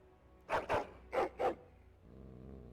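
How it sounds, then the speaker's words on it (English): Four sharp barks in two quick pairs, a hound close by in the video game Dragon Age: Origins, followed by a low growl trailing off. "Angry barking, growling. Your hound is making so much noise."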